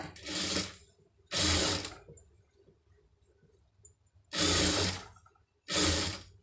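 Sewing machine stitching a blouse neck piece in four separate loud whirring bursts, each lasting about half a second with quiet pauses between.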